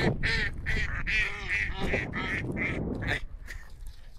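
Ducks quack loudly and repeatedly close by, a busy overlapping chorus of nasal calls, with a faint human voice in the background.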